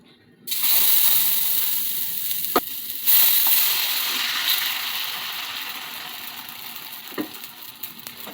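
Onion dosa sizzles and fries loudly on a hot pan, a steady close hiss that swells as batter or oil meets the surface, with a few faint clinks and a brief quiet voice.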